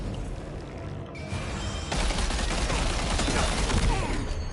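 Sustained gunfire erupts in the PS5 game Death Stranding 2: On the Beach, a dense, loud volley of rapid shots that thickens and grows louder partway through, with no talking over it.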